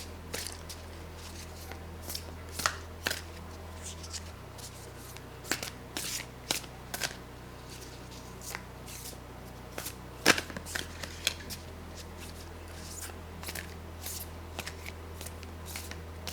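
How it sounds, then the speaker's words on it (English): A deck of tarot cards is shuffled in a series of quick crisp riffles and taps, close and fairly quiet, with pauses between bursts over a low hum. "I am going to start out by shuffling the cards."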